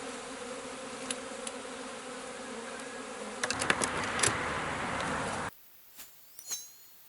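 Honeybees from newly installed nucs droning softly around a hive box, with a faint steady hum and a few sharper buzzes as individual bees fly close, before the sound cuts to near quiet with isolated buzzing passes.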